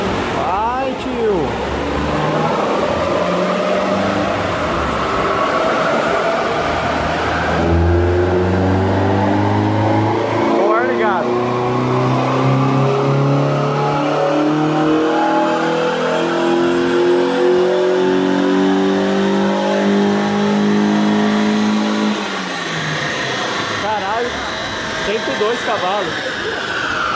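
A GM Vectra GT-X 2.0 engine with 140 hp, revving hard on a dynamometer with the air conditioning on, pulling through rising sweeps that climb and drop again, loud and close, with people talking over it.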